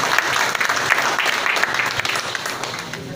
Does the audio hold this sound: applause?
yes